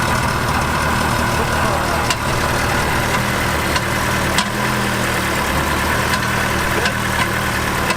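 An old junkyard Ferrari engine running on stale gas idles roughly and steadily up close, with uneven popping and knocking pulses over a continuous drone.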